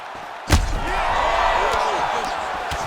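A single heavy punch impact in the fighting video game UFC 5 lands with a sharp thud, followed by a sustained crowd roar and commentary-like voices underneath.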